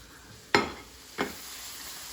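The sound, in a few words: chicken for piccata browning in a pan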